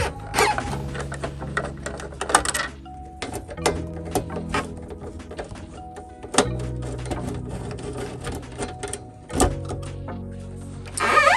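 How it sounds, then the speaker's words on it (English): Screws being backed out of the side cover of a Model 7000t pouch laminator, heard as close, repeated ratcheting whirs and short mechanical buzzes with brief pauses in between and metallic clicks as parts come free. "We're going to take the three side cover screws out and then remove the two top panel screws."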